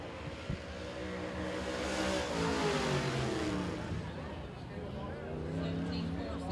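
Race car at speed on a speedway during a qualifying lap, its engine note rising and shifting steadily throughout, with an announcer talking over it the whole time.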